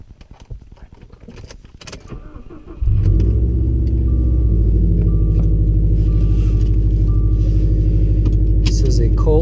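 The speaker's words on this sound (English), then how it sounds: "Cold start" A 2016 Subaru STi with a muffler-delete axle-back exhaust cold-starts after keys jangle and a brief starter crank, then settles into a loud, steady, deep idle rumble heard from inside the cabin.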